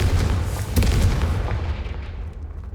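Confringo fire spell explosions in Hogwarts Legacy on PC, a dense thudding burst with a second punchy hit near the middle before the rumble trails off.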